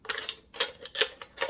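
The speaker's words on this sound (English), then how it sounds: "I'm going to take my scissors, and I'm just going to just cut a slit through it" Scissors cut a slit around an aluminum can, giving a series of about five crisp, scraping snips in an uneven rhythm, close and fairly quiet.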